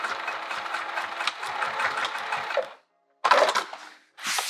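A sewing machine runs fast through a thick skirt seam, its rapid rhythmic stitching steady for nearly three seconds, then stopping before two shorter bursts of stitching with a brief pause between them.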